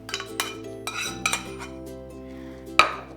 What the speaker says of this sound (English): we're gonna add it to our pasta